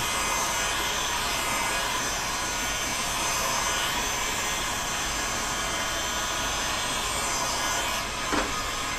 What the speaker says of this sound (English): And likewise, heat it with the heat gun.